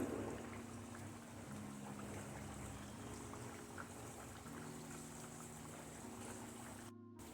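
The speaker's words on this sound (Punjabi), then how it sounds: "ਤੇਲ ਗਰਮ ਹੋ ਗਿਆ ਹੁਣ ਇਹਦੇ ਵਿੱਚ ਆਪਾਂ ਮੱਠੀਆਂ ਪਾ ਦਵਾਂਗੇ" Mathri, a fried Punjabi wedding snack, bubble and sizzle steadily in hot oil. A dense, even hiss continues throughout, with a brief dropout near the end.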